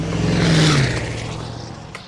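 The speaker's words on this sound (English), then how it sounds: "a freaking big old Mack truck going by" A heavy Mack diesel truck rumbles past nearby, its engine drone swelling and then fading over about two seconds.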